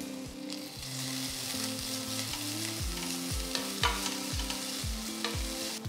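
Pounded ginger and garlic sizzle in a pan with browned sautéed onions for a chicken curry, a steady frying hiss broken by repeated rhythmic scrapes of a stirring spoon, close and continuous with no talk.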